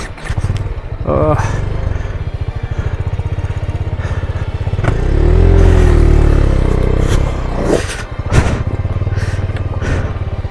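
An off-road motorcycle on the Hanuman climb trail chugs steadily at low revs, then revs harder and swells midway before settling back, loud and close, with people talking over it.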